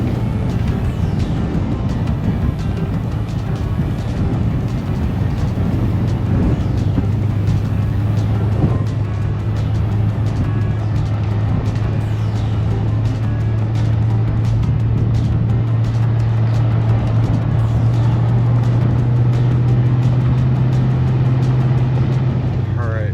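A pickup truck, a Silverado or Cybertruck, grinds along a two-track sand trail in four-wheel drive in a planted forest, its engine a steady loud drone that rises in pitch toward the end. Talk is heard over it.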